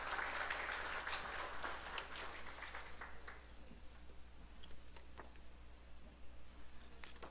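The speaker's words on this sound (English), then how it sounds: "Give the Mayor a big round of applause" Audience applause for the mayor at a public service day and awards ceremony, a steady wash of clapping that is loudest at the start and thins to scattered claps over several seconds, with no talk.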